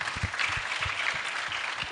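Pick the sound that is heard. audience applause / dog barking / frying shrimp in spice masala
audience applause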